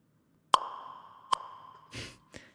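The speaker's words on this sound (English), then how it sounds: "These are some sounds from a Nerf bazooka gun." Three sharp, hollow thunks from a Nerf bazooka toy launcher, a loud one, a second a moment later, then a softer burst with a rattly pop at the end.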